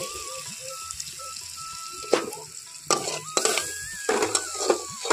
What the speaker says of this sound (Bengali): এখানে আমি 2টো কাঁচা লঙ্কা দিয়ে দিচ্ছি সুন্দর একটা ফ্লেভারের জন্য